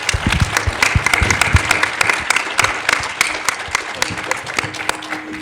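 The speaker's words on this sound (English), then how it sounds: "how about a big round of applause for these guys." Audience applause for speakers on a trading panel, a lively round of many hands clapping at close range, with a few louder individual claps and faint voices mixed in.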